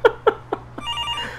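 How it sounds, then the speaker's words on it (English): A game telephone rings in a Demetrios apartment scene, giving four short, evenly spaced rings that fade slightly one after another. A steady electronic tone follows. "That sound! The phone!"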